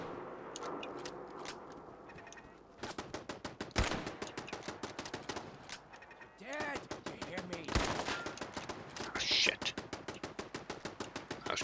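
Turret gunfire in Fallout 4 comes as bursts of sharp, rapid shots with short pauses between them, fairly close and loud, with quieter game sounds in the gaps.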